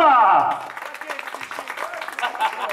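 A small gathering at a mother's birthday party breaks into scattered hand clapping after a brief voice, uneven and fairly close, fading in and out over a few seconds.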